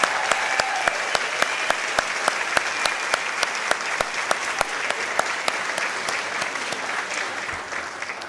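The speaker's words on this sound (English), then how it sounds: "And let's give them a round of applause." Audience applause at a Teacher of the Year ceremony, steady loud clapping from a large crowd sustained throughout without a break.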